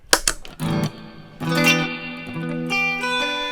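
Electric guitar played through chorus and hall reverb pedals: a few sharp plucked hits, then sustained shimmering chords with a lush, washy tail ringing out alone.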